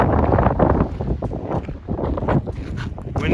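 Strong wind buffets the microphone at a viewpoint near Double Arch, a loud, continuous low rumble with gusty swells and brief dips.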